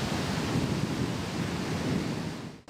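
Wind and waves on a seashore, a steady, dense wash of surf and gusting air that holds at an even loudness throughout before cutting off at the end.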